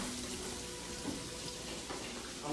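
Tap water runs steadily to fill a pot for cooking rice, a soft, continuous faucet stream heard close in a kitchen with no talking over it.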